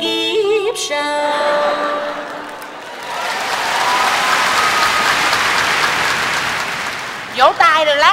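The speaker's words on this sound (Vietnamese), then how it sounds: "Vỗ tay rồi lát nhớ mua." A theatre audience at a live Vietnamese comedy show breaks into loud, sustained clapping after a short sung or spoken phrase, holding steady for several seconds before a voice cuts back in at the end.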